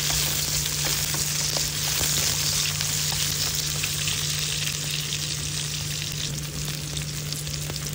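Garlic and onion sautéing in a hot pan while cooking binagoongang pata, a steady dense sizzle of frying running loud and close throughout with faint stirring clicks and no talk.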